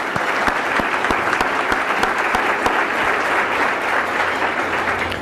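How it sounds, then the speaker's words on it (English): Sustained applause from an audience at a civic event with Congressman Joaquin Castro honouring Richard, dense, even clapping filling the whole stretch without pause. "Please help me give Richard a round of applause on his work."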